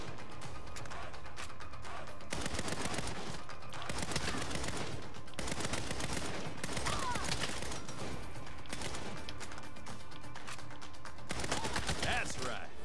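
Rapid, sustained gunfire in the Saints Row video game fills the scene as shots are aimed at a tank, dense bursts running without pause for several seconds.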